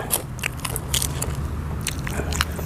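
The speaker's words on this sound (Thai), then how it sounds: "แคบหมูมานำแจ่เผ็ด" Crunchy pork rinds are bitten and chewed after being dipped in spicy chili sauce, giving close, crackly crunches in quick irregular bursts.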